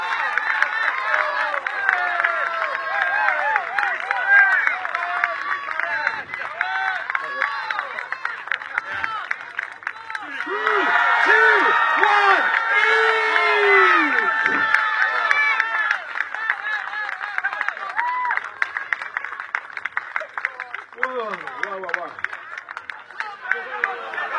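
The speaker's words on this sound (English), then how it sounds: "Find your favourites, please cheer them on." A crowd at a chili eating contest cheers and shouts continuously, a dense babble of voices and whoops that swells around the middle and keeps up throughout.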